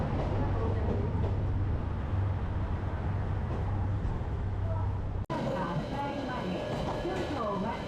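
A limited express train bound for Kochi pulls into a Japanese railway station, a loud continuous low rumble and rolling clatter close by, with voices over it.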